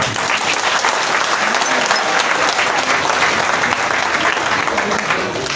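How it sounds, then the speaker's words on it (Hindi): Dense, steady applause fills a political rally crowd in Bihar, loud and continuous from start to finish, with a faint voice under the clapping. "इन सबों के ताली बजाकर स्वागत कीजिए आप।"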